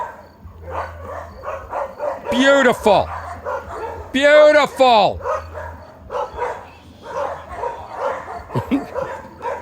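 Dogs in Costa Rica bark and yelp nearby, with two drawn-out, howling yelps standing out amid bursts of choppy barking, while a person speaks over them.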